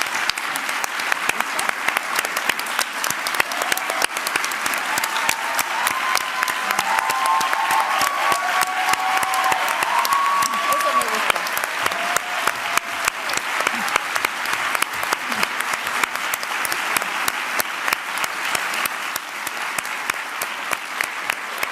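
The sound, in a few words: audience applause after a lecture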